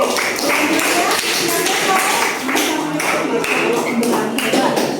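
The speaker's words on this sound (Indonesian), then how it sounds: "tepuk tangan" Students in a classroom clap their hands together in a loud, dense, sustained burst of applause that continues throughout, with voices mingled underneath.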